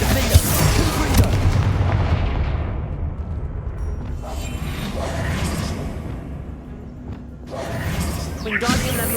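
Explosive spell blasts from Bombarda and Confringo cast in Hogwarts Legacy. Heavy booms and whooshing bursts come in quick succession, loud and close, with a voice heard over parts of them.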